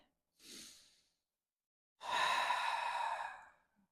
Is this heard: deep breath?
yes